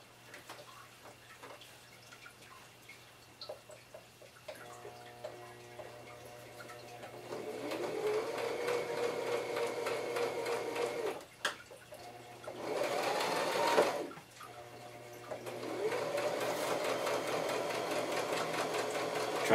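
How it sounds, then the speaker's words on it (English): A sewing machine stitches a handbag seam, its motor whirring in a steady mechanical drone that starts quietly, rises, pauses briefly and resumes in several close, sustained runs. "Trying to sew as close to the edge as I can, so I have a nice clean seam."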